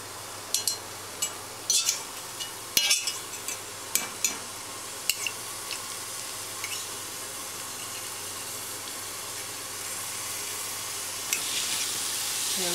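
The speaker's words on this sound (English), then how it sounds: "now they're just going to sit and sizzle for a little bit and get browned at the bottom" Grass-fed burger patties sizzling in a pan, a steady crackling hiss with scattered wooden-spatula clicks and scrapes early on, then settling into continuous frying noise.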